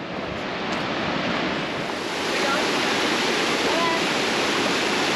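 A waterfall in Hetch Hetchy Valley, Yosemite, roars close by, throwing off mist, with a dense, steady wash of rushing water that fills the whole scene and swells slightly louder midway.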